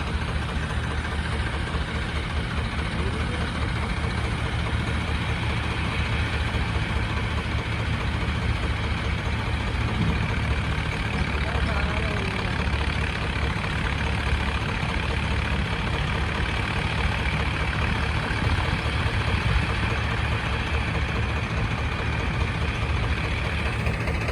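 A farm machine running in a village gives off a continuous heavy engine drone, steady and fairly loud throughout, with no talk over it.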